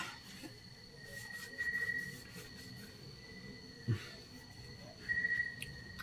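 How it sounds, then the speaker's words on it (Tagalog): Crickets chirp in a quiet countryside setting, a steady high-pitched trill with a couple of slightly louder pulses, faint and distant, alone over soft background hiss. "Kuliglig lang talaga, oh. Kuliglig lang yung maririnig."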